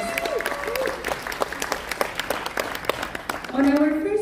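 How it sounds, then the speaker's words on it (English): An event audience applauds continuously, a dense, steady patter of many hands, with a voice speaking over it at the start and a short musical tone near the end. "Please, once again, big round of applause for Mr. Powell upstairs."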